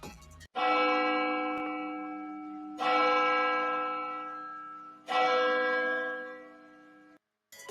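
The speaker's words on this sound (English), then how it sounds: "Can we drop a church bell real quick for the life that was lost in this situation?" A church bell tolls three times, each strike ringing loud and close, then decaying slowly and overlapping into the next strike at an even, slow pace. No voices are heard.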